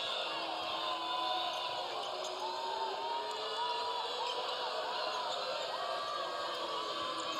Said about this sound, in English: Crowd coming alive in Littlejohn Coliseum with 2 minutes left to play.